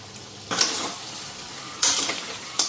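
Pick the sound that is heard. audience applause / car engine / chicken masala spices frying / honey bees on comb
chicken masala spices frying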